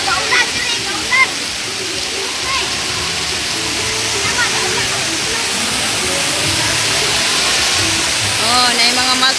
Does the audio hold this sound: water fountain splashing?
yes